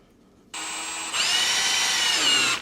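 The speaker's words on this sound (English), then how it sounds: "just run the oil pump with a drill until I see oil coming out of here" A power drill spins the oil pump of a 1969 Chevy 327 engine, whining steadily and close by, then rising to a louder, strained pitch partway through as the pump loads up.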